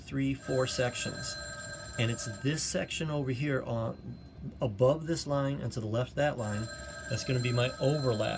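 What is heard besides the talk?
telephone ringing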